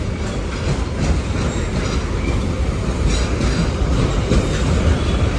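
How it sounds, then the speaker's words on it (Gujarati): A heavily loaded goods train rolls past close by, a loud continuous rumble of wagons with rattling clickety-clack and occasional wheel squeal. "ઓહો બે માલની ગાડી આવી મિત્રો"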